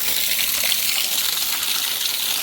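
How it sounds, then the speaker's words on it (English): Clean groundwater flows steadily out of an aquifer seep at a salamander-hunting site, a constant close broadband gush with no breaks across the whole clip. "This is clean water, pure groundwater coming out of the aquifer."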